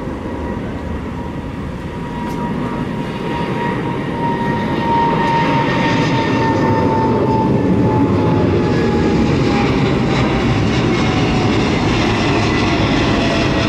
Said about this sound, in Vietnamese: Boeing 777-300ER cất cánh đẹp đúng không mọi người, và âm thanh cũng rất là đã.